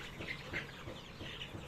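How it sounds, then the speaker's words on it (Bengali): A chicken clucks softly in a small backyard flock, a few faint, close short calls over a low ambient background. "এই যে মুরগিটা"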